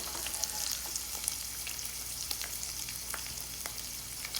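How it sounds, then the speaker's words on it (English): Meat frying in a hot pan for a Top Ramen noodle casserole, a close, steady sizzle with scattered crackles and pops, fairly quiet and alone without talk. "the sound of the sizzle will die down as another indicator too"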